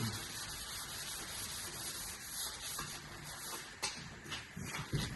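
Wet sanding a painted surface before repainting, a close, continuous rubbing and scrubbing with a few sharper scrapes near the end, fairly quiet and without talk.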